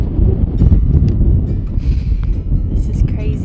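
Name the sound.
wind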